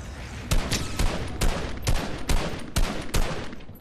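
Gunshots in a video game, about seven loud, sharp cracks fired in a steady, evenly spaced rhythm, roughly every half second, over a constant background rumble.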